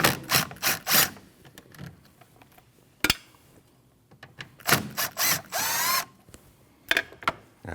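Power tool backing out T27 Torx bolts from the brake reservoir of a 2013-2019 Ford Escape 1.5L: short close bursts of drilling and ratcheting whir, broken by pauses and a few sharp clicks.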